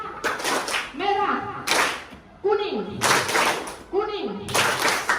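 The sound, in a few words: classroom clapping pattern game, tepuk konsentrasi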